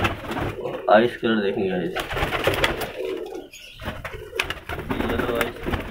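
Pigeons cooing in a rooftop loft, soft throaty calls repeating near and clear, mixed with someone talking and a brief clatter.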